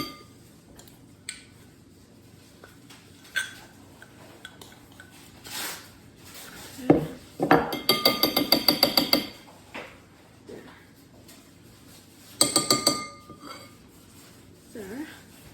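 A spoon scraping peanut butter out of a jar for gluten-free, dairy-free peanut butter raisin oat cookies, with scattered soft knocks and clinks, then two short bursts of rapid scraping and rattling against the container.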